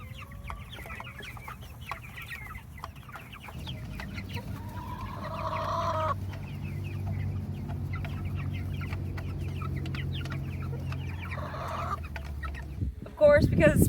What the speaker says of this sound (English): Got a whole bunch of laying hens out today.